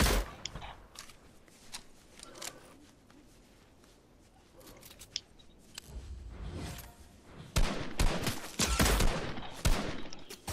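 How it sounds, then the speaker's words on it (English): Long-range gunfire in a shooter video game: scattered distant-sounding shots early on, then dense bursts of rapid fire that grow louder and closer toward the end. "They're firing long range."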